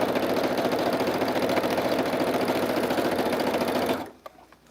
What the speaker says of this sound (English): I'm on the Brother sewing machine because I put a brand new needle